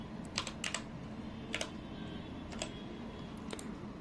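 A computer keyboard ticks as a short file name is typed, with a few crisp keystrokes in small clusters over a steady hiss, close and with no voice.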